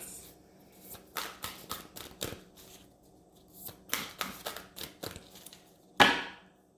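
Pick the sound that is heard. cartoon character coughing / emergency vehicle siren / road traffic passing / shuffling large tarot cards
shuffling large tarot cards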